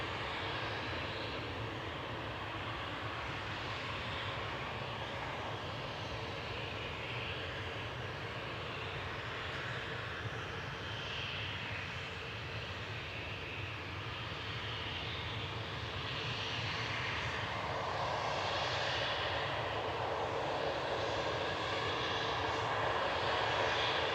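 A SunExpress airliner on flight 506 from Dalaman landing at Manchester Airport, a steady distant roar of jet engines that swells slightly toward the end.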